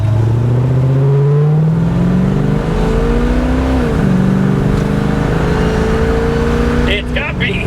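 A 1969 Camaro SS V8 pulls hard from inside the car, its loud engine note climbing steadily in pitch, easing briefly, then rising again as it keeps accelerating, with a short rustle near the end.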